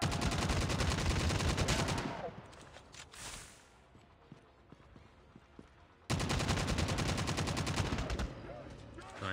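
Gunfire aimed at zombies in Call of Duty Mobile's zombies survival mode: dense bursts of rapid shots, then a quieter gap with a few scattered sounds before the loud firing resumes.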